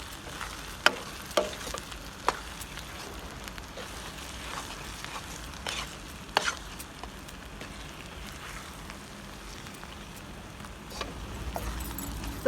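Garlic chutney masala frying slowly in oil over a low gas flame, a faint, soft sizzle with scattered small clicks and pops and occasional stirring, no talking.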